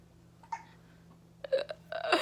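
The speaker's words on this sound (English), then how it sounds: "if you hear hiccups, just know that's my baby because she has hiccups right now" A baby hiccups indoors at home, with several short, sharp hiccups heard close by: one faint one early on, then a louder cluster near the end, over a low steady hum.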